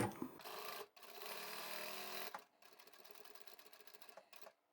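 A sewing machine back stitches a seam on a drawstring bag, running in short bursts with brief pauses between stitching runs, close and fairly quiet.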